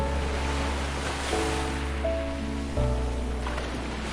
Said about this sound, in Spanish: el sonido de las olas marca un ritmo constante